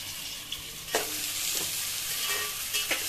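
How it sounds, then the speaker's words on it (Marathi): Finely chopped onions, two large ones, hit hot oil in a pan for a Maharashtrian chicken curry, a loud continuous sizzle broken by a few bursts of stirring and scraping. "आता आपण या तेलामध्ये 2 मोठे चिरलेले बारीक कांदे जे होते ते या तेलामध्ये टाकत आहोत."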